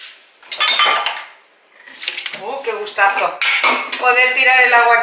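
Dishes and cutlery clink and clatter up close while washing up in a newly fitted kitchen sink, with a brief ringing knock, a pause, then a busy run of ringing clinks and scrapes.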